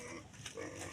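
Pigs grunting at feeding time in the late afternoon, a short burst of low, rough snuffling grunts heard faintly up close.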